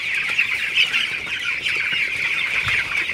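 Broiler chickens on a farm during hot weather make a steady, dense chorus of clucking and chirping. It sounds like a large flock heard close by, continuous for the whole stretch, with no talking.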